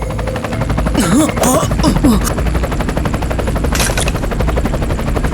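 A helicopter's rotor thuds in a loud, rapid pulse throughout, with a brief voice and some sharp bursts over the steady beat.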